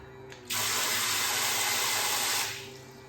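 A portable battery-powered shower sprays water in a loud, steady hiss that starts abruptly, holds for about two seconds, then tapers off, over a faint pump hum.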